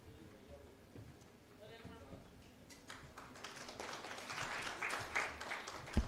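Audience clapping at an academic workshop, starting sparse and building into fuller applause over the second half, fairly close and rising in loudness.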